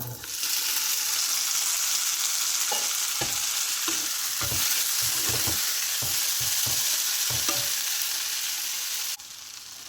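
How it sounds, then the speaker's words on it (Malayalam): Pressure-cooked green gram (moong) is stir-fried in a pan, with a steady close sizzle under repeated scraping strokes of a spoon that come in an irregular rhythm. "പിന്നീട് കുക്കറിൽ വേവിച്ചെടുത്ത ചെറുപയർ ഇട്ട് കൊടുക്കാം"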